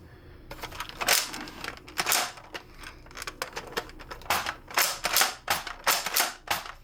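Repeated short plastic clacks and snaps from a NERF Halo Bulldog SG pump-action toy shotgun blaster, racked several times in quick irregular bursts, close and fairly loud with no talking.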